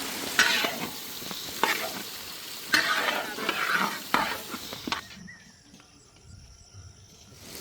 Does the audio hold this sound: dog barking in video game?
no